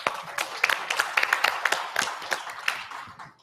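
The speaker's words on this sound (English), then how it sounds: "Let's give all of them a round of applause" An audience gives a round of applause for a panel, with a modest crowd of close, irregular hand claps that keep going steadily before fading out at the end.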